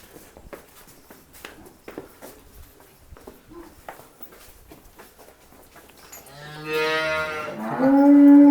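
Jersey cattle moo close by in a Punjab village farmyard, a long loud call near the end following quieter stretches of shuffling and soft background noise.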